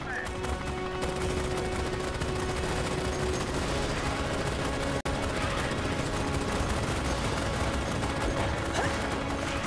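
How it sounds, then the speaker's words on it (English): Sentry guns in Starship Troopers Extermination hammer away in a steady, dense stream of automatic fire, loud and unbroken apart from one instant gap midway, with voices chattering underneath. "And we got the sentry guns doing their shit here."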